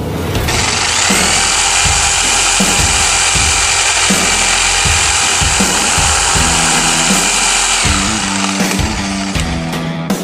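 A Sawzall reciprocating saw with a Diablo blade cuts steadily through metal during a front clip conversion on a 2004 Chevy HD truck, a loud, continuous buzzing whine with a rough rattling undertone that runs for the full ten seconds.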